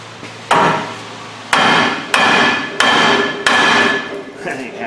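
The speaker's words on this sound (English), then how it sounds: "Let me get a little hammer somewhere." Five loud, sharp hammer blows on a Ford F-250 truck suspension part, close by and spaced irregularly, each ringing briefly before the next strike.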